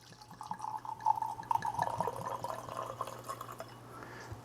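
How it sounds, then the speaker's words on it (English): Tequila Hermosa Casagave is poured into a glass. It gives a soft, close trickle and gurgle that rises and settles over a few seconds, with a low steady hum underneath. "we're going to pour a little bit of the Tequila Hermosa Casagave into the glass."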